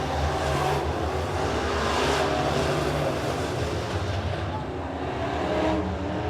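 B-Modified race cars circling the dirt track at Springfield Raceway, a continuous loud engine roar from several cars with passing swells, heard from the stands.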